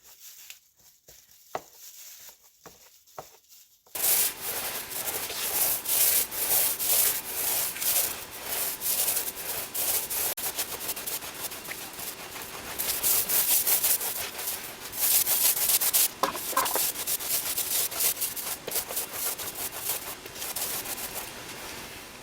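Paint roller spreading gesso ground mixture over a wooden artist's panel, a steady close rubbing, sanding-like texture starting after a few quiet seconds and continuing with repeated strokes, no talking.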